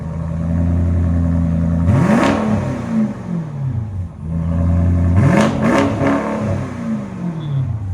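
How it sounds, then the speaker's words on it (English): A straight-piped BMW SUV exhaust revs twice, each rev rising to a loud roaring peak and then falling back to a rumbling idle, close by and loud, with no talking. "That's a mean sounding BMW right there."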